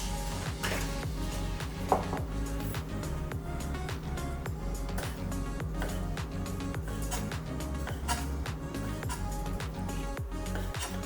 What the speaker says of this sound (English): We're gonna cut the shrimp after wash.